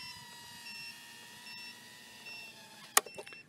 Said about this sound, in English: the beeper is going off as well